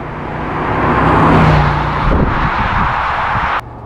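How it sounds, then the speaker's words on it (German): A 2003 BMW Z8 roadster with an M engine accelerates hard, its strong engine note rising and swelling for a few seconds, then it drops abruptly as the car pulls away. "so wenn wir hier drauf, also der rauscht richtig nach vorne, ist ja ein M-Motor"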